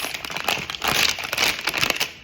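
Steady crinkling and rustling of a plastic bag wrapping a Comme des Garçons perfume being handled up close, continuous and fairly loud with no talking.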